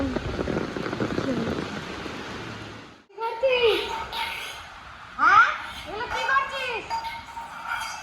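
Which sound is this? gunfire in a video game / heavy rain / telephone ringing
heavy rain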